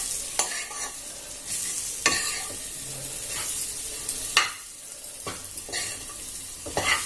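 Gram flour (besan) roasting in a hot pan, a soft continuous sizzle under repeated sharp spatula scrapes and stirs at irregular intervals about a second apart.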